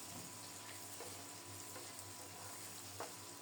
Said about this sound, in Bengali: এই তেলেই পেঁয়াজ বেরেস্তা করে নেব।